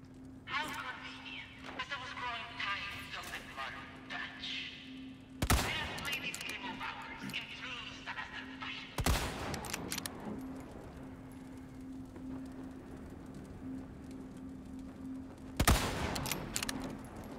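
Gunfire in Resident Evil 4 (2023 remake): three sharp, loud shots spaced several seconds apart, each a sudden broadband crack, over a steady low game hum and busy background with a voice talking throughout.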